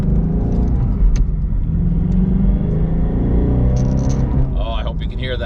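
A Shelby GT350 V8 rumbles close by with a deep, loud exhaust note, revving and surging steadily throughout.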